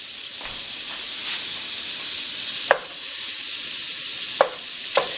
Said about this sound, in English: I'm putting the butter in here, and I'm going to saute the garlic, the onions, and the celery